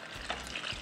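A milk and cream mixture is stirred in a pot, giving a soft, continuous swishing and scraping with faint liquid movement, close and fairly quiet.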